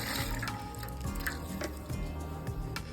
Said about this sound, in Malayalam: ഇനി കുറച്ച് വെള്ളം കൂടെ ഇതിൽ ചേർക്കാം